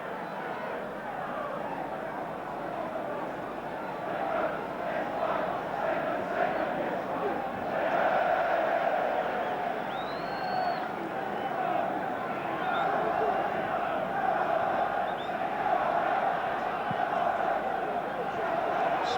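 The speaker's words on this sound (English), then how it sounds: "certainly before a big crowd here at Highbury tonight" A big football crowd at Highbury stadium during Arsenal versus Aston Villa, a steady distant roar and murmur filling the background throughout, with a commentator talking over it.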